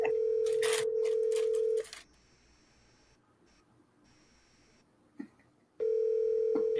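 A telephone call being placed: a steady dial-style tone for almost two seconds, then quiet line hiss with a faint blip, and the tone returning near the end, loud and alone with no talking.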